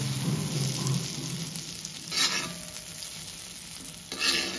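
Ridge gourd pieces frying on a low flame give off a steady, soft sizzle with brief louder bursts of stirring, close by and alone with no talk.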